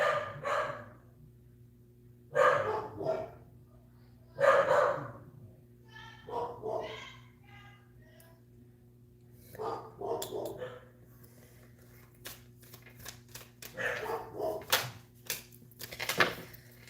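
A dog barks in short bursts in the background, spread across the stretch with quiet gaps between, moderately loud against a steady low hum.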